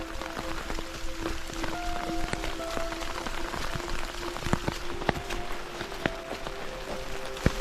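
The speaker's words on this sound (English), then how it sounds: "Still raining." Steady rain patters on surfaces and rhododendron leaves along a Cumberland Gap backpacking trail, with scattered sharper drips cutting through the soft, constant hiss.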